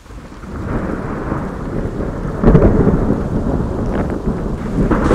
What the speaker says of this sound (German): Erst kamen die Blitze, dann kam der Donner, dann kam Gewitter und jetzt ist der Regen da und der Sturm.